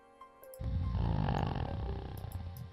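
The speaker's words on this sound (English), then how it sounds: "Do I have to have him snoring for some reason?" Character snoring in the Inherit the Earth adventure game, a single loud, rough, growling snore that starts abruptly and drags out for about two seconds over faint game music.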